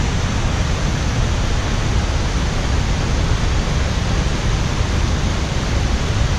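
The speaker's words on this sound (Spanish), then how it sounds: "venir a disfrutar del ruido del agua" Shoshone Falls in Idaho roars as a steady, dense wash of falling water. It is loud and unbroken throughout with no voices.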